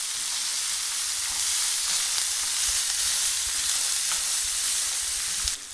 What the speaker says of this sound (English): Now you just saute all this together because you want it to cook but not cook too much.